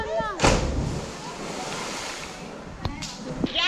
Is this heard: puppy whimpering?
no